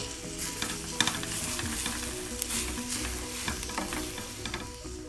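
Paruppu usili with coconut being stirred in a pan, a soft continuous sizzle with repeated scraping and tapping of a spoon against the pan, close and fairly quiet, no voices.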